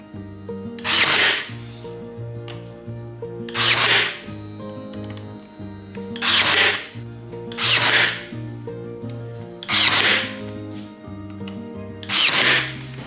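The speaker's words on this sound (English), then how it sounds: "everything's had a really good light sanding" Repeated rasping strokes of sandpaper giving light sanding to an IKEA Tarva kitchen island before priming, about six even passes with pauses between, heard over steady background music.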